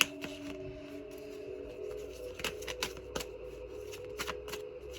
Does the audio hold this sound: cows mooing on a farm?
no